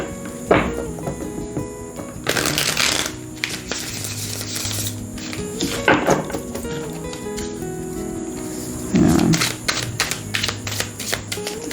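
Clarity tarot deck being ruffle shuffled by hand, with several bursts of riffling card flutter and soft clicks spread across the clip, close and moderately loud with faint background noise.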